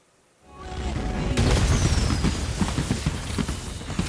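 A fireworks show erupts into a dense, continuous rumble of booms and crackling bursts, loud and sustained after a quiet start, with a rising whistle partway through.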